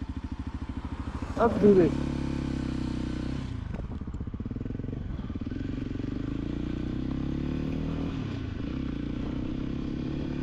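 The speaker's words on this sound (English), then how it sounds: "Such a nice sound for a beautiful bike." A motorcycle engine idles steadily at close range, its low rumble holding throughout with a brief clatter early on, while a person speaks briefly over it.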